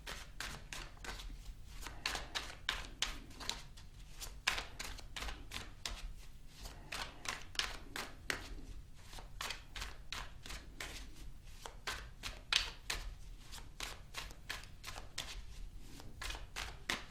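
Tarot cards being shuffled and pulled from a deck, a long run of quick, rhythmic riffling flutters at close range with a faint background hum, no talking.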